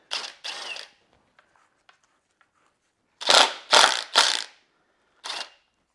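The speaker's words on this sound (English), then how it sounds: "So screw the tool in, then release the bolt." A special tool threaded onto a BMW 525d engine releases the sprocket bolt: two short mechanical bursts, faint clicks, then three loud rasping bursts in quick succession and a final one.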